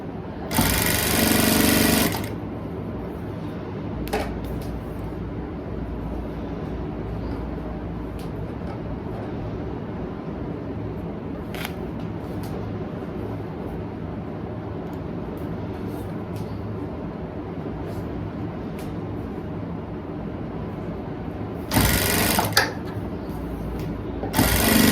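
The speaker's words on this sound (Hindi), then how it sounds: "हम अब सीधी सिलाई लगा लेंगे।" A sewing machine runs steadily, stitching a straight seam on saree fabric; the mechanical whir holds an even rhythm nearly throughout, with short louder bursts at the start and near the end, and no talking.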